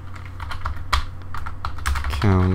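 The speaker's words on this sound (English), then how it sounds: "I'm going to do that by typing double slash" Irregular clicks and taps of a computer keyboard as code is typed, close and crisp, with a few louder keystrokes and a short tonal blip near the end.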